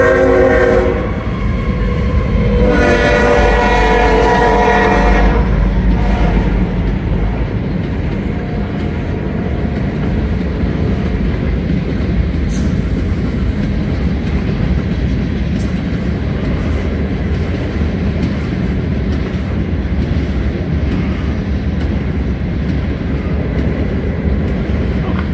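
A southbound train on the Somerset Railroad passes close by with loud horn blasts near the start, followed by a heavy, continuous rumble and rhythmic wheel clatter on the rails.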